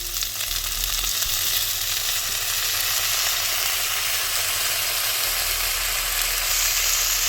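Okra sizzles steadily in hot oil in a pan, a dense crackling hiss that stays even throughout, with no voices.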